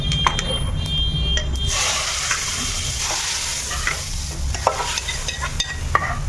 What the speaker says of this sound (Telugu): ఇప్పుడు మనం పప్పులో తాలింపు వేసేసుకుందాం.